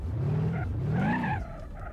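A Vectra GT in BeamNG.drive skids with a long rising and falling tire squeal over engine hum, loud and close, fading near the end.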